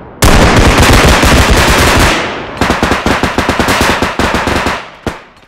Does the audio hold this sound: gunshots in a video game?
yes